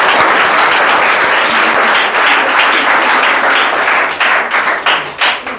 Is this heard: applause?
yes